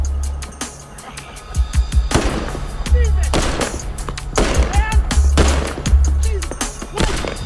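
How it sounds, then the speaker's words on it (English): Gunshots from a gun in a show scene, a run of sharp loud cracks fired in rapid bursts with short gaps, mixed with other sharp impacts. "shooting a gun directly at him"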